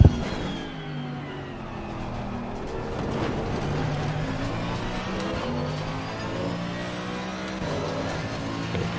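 A race car engine in a racing video game whines and revs through gear changes, rising and falling in pitch as it accelerates out of a chicane, fairly loud and continuous with no talk.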